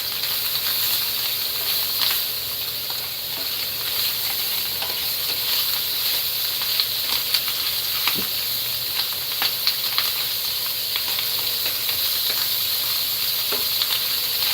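Shrimp and grits stew with bacon sizzling in a hot pan, a constant loud frying hiss with scattered pops and crackles, close and alone.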